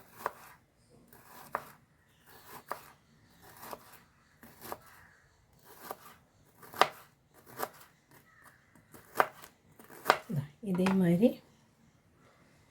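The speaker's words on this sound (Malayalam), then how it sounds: "നൈസായിട്ട് മുറിച്ചെടുക്കാം കേട്ടോ" A knife chops bitter gourd on a board in a series of about ten crisp, evenly spaced cuts. A brief voice murmurs near the end.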